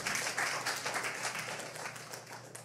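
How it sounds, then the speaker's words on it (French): A crowd claps for the staff at a festive public event in a venue, a full burst of applause that slowly thins out toward the end. "Donc, un bon applaudissement pour ceux-ci."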